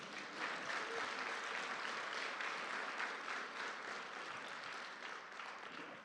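A church congregation applauds after a student's recitation of a poem, a steady, even roar of many clapping hands heard from a moderate distance with no voices.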